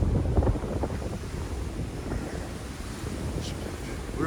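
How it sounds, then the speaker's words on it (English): Strong wind gusts roar steadily past a wall of rhododendrons on a mountain trail, a loud low rushing that fills the scene without a break, with no voices. "Wind's blowing hard."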